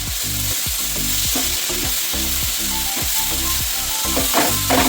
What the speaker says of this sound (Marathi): थोडं ग्रीन चिली सॉस, आता हे सगळं मिक्स करून घेणार आहोत.